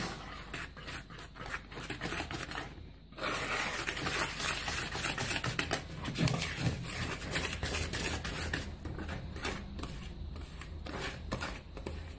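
A Compact Cook Elite food processor mixes carambar cake batter, giving a steady, dense whirring churn that runs for about twelve seconds with only a brief dip near the start.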